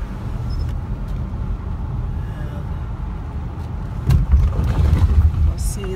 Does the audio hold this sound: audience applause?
no